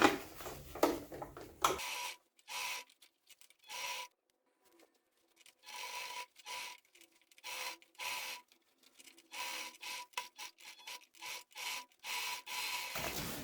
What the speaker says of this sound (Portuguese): Então, aqui eu arrematei, passei a costura, né? Pra fazer o acabamento.